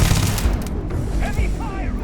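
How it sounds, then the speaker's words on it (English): Dense gunfire from a Starfield firefight, with a rapid mix of shots and low booms packed through a short burst, loud and close, and voices briefly audible in the mix. "Heavy fire!"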